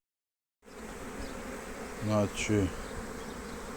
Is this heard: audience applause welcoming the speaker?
no